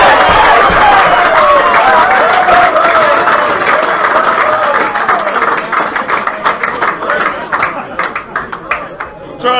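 Rugby crowd in a grandstand at a Waikato club match, Hautapu against Fraser Tech, roaring and applauding after a try, loud and dense at first, then thinning into scattered claps, with a commentator talking over it.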